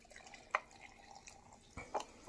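Fizzy organic energy tea pours with faint drips and a couple of small splashes, then a soft fizzing liquid sound, quiet and close with no talking.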